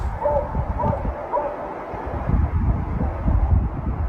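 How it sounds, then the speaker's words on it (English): A dog barks and yips outdoors in gusty wind during an apparent confrontation with an unseen creature, with several short barks early on, then rougher rustling and wind noise. "He recorded what appeared to be a confrontation between an unknown creature and a dog."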